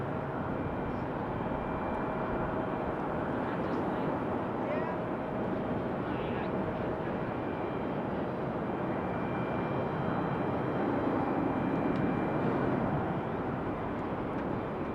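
An American Airlines Boeing 737 lands at Raleigh-Durham airport, its jet roar a broad, continuous rumble that holds steady and swells slightly near the end, heard from outdoors at some distance.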